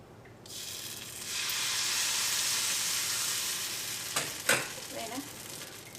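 Appam batter goes into a hot non-stick pan and sets off a loud, broad sizzle that swells, holds steady and then fades. A few clinks and scrapes of the pan come near the end, with no one speaking.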